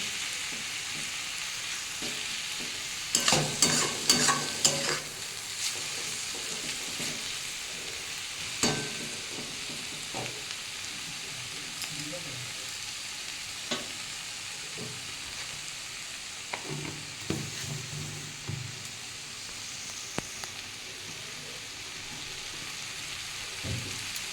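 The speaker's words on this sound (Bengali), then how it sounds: "এটা একটু ভালো করে ভেজে নিতে হবে একদম নরম হয়ে গেছে যেটু আর একটু ভাজতে হবে" Shredded cabbage stir-fried in a pan until soft, a quiet continuous sizzle broken by a cluster of clattering stirs early on and scattered scrapes later, with no talking.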